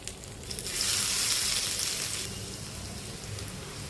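Fish pieces shallow-frying in oil in a pan, a steady close sizzle that swells loud for a couple of seconds then eases to a softer crackle over low background rumble.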